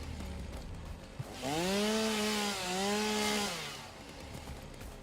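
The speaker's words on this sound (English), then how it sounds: "I ran past it with my chainsaw." A chainsaw in the video game Satisfactory revs up while cutting down palm trees, a loud steady whining drone that holds for about two seconds, dips briefly, then fades away.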